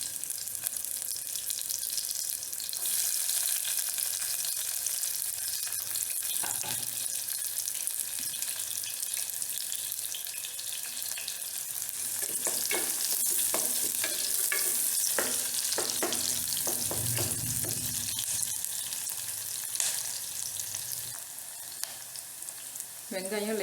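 Sliced big onions fry in a pan for chicken salna, giving a steady close sizzle with occasional stirring and scraping. The sizzle runs throughout with a few louder bursts midway.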